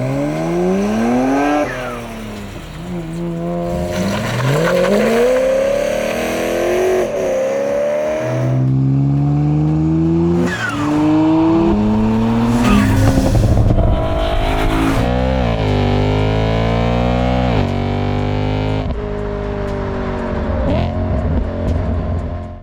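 BMW 335i with a Pandem wide body kit and an E92-generation BMW M3 with Akrapovic exhaust, engines revving and accelerating with rising and falling tones throughout, loud and close, blended with music.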